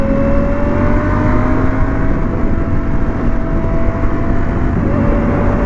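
Ducati Panigale V4S motorcycle engine running loud and steady at speed on a London night ride, with a constant engine drone and a slowly shifting tone throughout, no talking.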